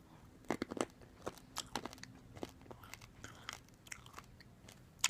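Crunchy snack from a Nature Box being bitten and chewed up close, a string of sharp, irregular crunches and crackles with short pauses between bites, with no talking.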